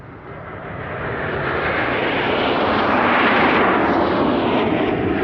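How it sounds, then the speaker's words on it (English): A Sukhoi Su-24 Fencer supersonic swing-wing two-seat attack aircraft passes overhead, its engine roar a broad, loud rush that swells steadily and holds near its peak. "The Sukhoi Su-24 Fencer is a supersonic swing-wing two-seat attack aircraft"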